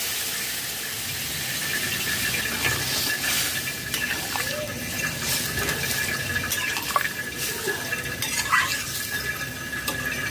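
Boiled vegetables are poured with their cooking water into a pan with spices for a kohlrabi, potato and soybean curry, a steady close splashing and sizzling wash with small clinks.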